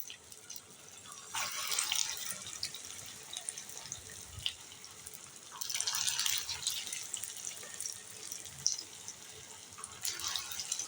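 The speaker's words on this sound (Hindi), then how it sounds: "4-4 जो है इसके अंदर आसानी से आप फ्राई कर लेंगे" Breakfast snacks fry in hot oil in a pan, giving a bright, crackling sizzle that swells in bursts near the start, middle and end of the clip, with no talking.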